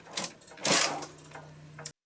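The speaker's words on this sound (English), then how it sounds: "It knit the ribber stitches in between the stitches on the main bed." A knitting machine carriage with a ribber attached slides across the needle bed to knit a row, giving a short mechanical clatter with a louder whooshing sweep in the middle and a low hum underneath, about two seconds long, close and alone.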